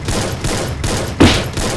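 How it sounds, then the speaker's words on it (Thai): Gunfire rings out in the Free Fire battle royale game: three loud bursts of rapid shots, the last one the sharpest, each cut off by a brief gap, with no voices over them. "เสียงปืนบวกกันอย่างเงี้ย"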